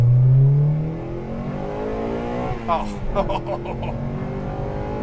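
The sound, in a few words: Honda Accord Euro Type R VTEC engine revving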